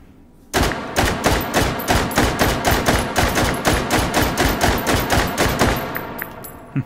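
SKS rifle fired in the shooting game Hot Dogs, Horseshoes and Hand Grenades: about seventeen sharp, evenly spaced shots in a rapid steady rhythm, loud and close, followed by a faint click at the end.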